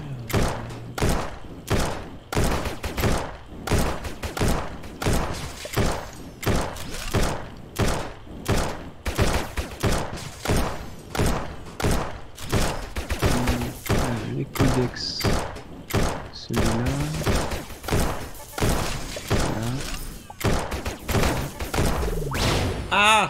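Rapid, evenly spaced gunshots fire in a steady rhythm during target shooting in the space sandbox game Starbound, loud and close, with a few higher tonal effects layered in midway.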